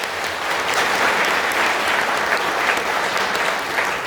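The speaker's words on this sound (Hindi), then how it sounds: "एक बार जोरदार तालियां।" Sustained, dense applause from a seminar audience in Greater Noida, loud and even throughout, with no talk over it.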